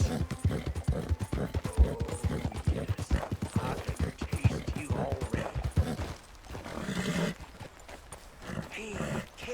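Horse hooves clip-clop in Red Dead Redemption 2, a steady rhythmic trot close by, with a brief whinny-like sound, running under a voice and game ambience.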